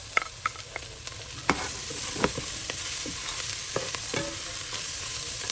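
Sliced mushrooms sizzle and fry in a pan, with a utensil giving several sharp scrapes and clicks against the pan over a steady close frying hiss.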